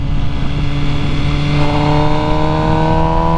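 An MV Agusta Brutale 1000 RR motorcycle engine pulls hard and steady, its rising harmonic whine climbing in pitch as it accelerates, loud and close with constant wind rush.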